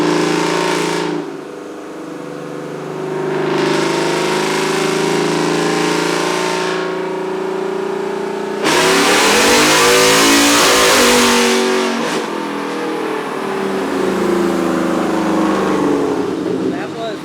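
Untuned 2021 Ford F-150 with tube headers and a Borla catback exhaust, run in fifth gear on a dyno: a loud engine roar that climbs in pitch through two long pulls, close and sustained.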